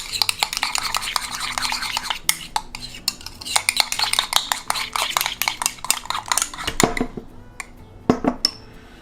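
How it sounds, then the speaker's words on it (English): A spoon stirring seasoned food around a pan, with rapid, irregular scraping and clinking of utensil against cookware, close and fairly loud, tapering off near the end without speech. "So you want to stir it around again."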